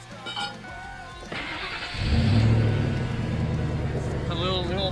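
Truck engine fitted with a giant muffler and chrome exhaust tip cranks and catches partway through, then settles into a steady, deep idle heard up close.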